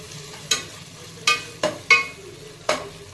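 Ginger-garlic paste is mixed in a cooking pan for a tomato, cauliflower and egg curry. Five distinct, loud spatula scrapes ring out over a faint low sizzle.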